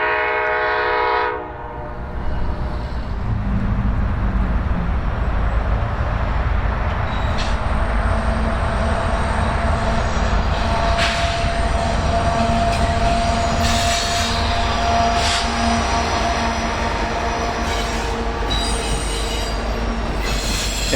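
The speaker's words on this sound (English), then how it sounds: "our last catch before heading back to the loveliest village on the plains would be a Kansas City Southern intermodal train rolling" A Kansas City Southern intermodal freight train rolls past close by, a loud continuous rumble of cars with squealing wheels and a short horn note at the start, running without pause and with no talking.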